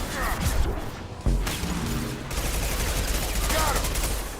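Heavy high-impact gunfire in the video game Mass Effect 2, with loud booming shots near the start and again around the middle over a dense, continuous bed of battle noise and effects.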